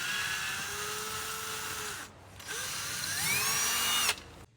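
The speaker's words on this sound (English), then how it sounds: "And drill a hole, sort of offset to one side." A small power drill bores through a plastic bottle cap, whining at high speed with a brief pause, then revving up again and cutting off, close and alone.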